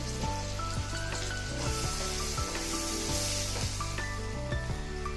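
Tomato frying in a pan of oil for prawn pulao, a loud, busy sizzle and crackle running throughout, close up, with faint background tones and no talking.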